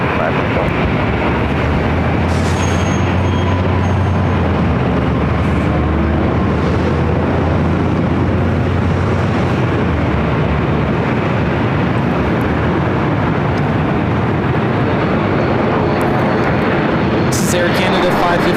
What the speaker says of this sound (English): Air Canada 559 taking off to Vancouver.